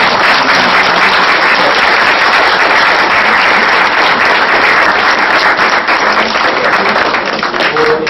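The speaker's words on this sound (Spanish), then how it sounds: "yo quiero pedirles un fuerte aplauso para Humberto Musaque." Loud, dense applause from an audience welcoming a guest speaker, sustained and even for about eight seconds with no break and no talking over it.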